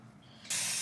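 A short pump spray of product applied while bonding down a lace wig hairline, a sudden close hiss bursting in after a faint mechanical click and holding to the end.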